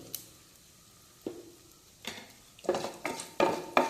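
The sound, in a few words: stirring asafoetida powder in ghee and oil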